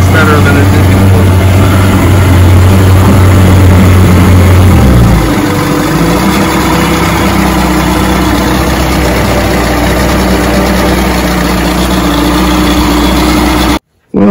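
A 1989 45 hp Mercury outboard motor with tilt trim runs steadily, loud and close, with a low drone that shifts slightly around five seconds before continuing evenly, then cuts out abruptly at the end.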